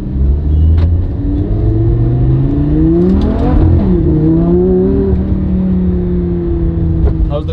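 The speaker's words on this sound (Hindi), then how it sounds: "चलो गाइज लैम्बोर्गिनी अभी निकल चुकी है" Lamborghini Gallardo driving off: a loud, close engine rumble with a clear rev that climbs and falls midway, then settles into a steady drone, with faint voices in the background.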